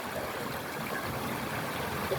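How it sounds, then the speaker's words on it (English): Babbling brook flowing past thatched cottages in the village of Brighstone, a steady, close broadband rush and trickle of running water throughout, with no voices. "Babbling brook of Brighstone"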